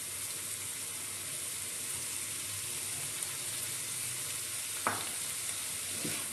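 Chopped green chilli stirred into Patiala chicken sizzling in a pan, with a steady close frying hiss throughout and a couple of brief spoon scrapes near the end.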